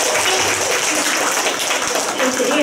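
An audience at a Catholic community lecture claps together in a dense, steady burst of applause lasting a few seconds, close and fairly loud.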